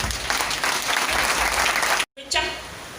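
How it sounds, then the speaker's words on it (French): A church congregation claps and cheers in acclaim of Jesus, steady dense applause filling the space, then a sudden brief cutoff before the clapping resumes and starts to fade. "Acclame Jésus."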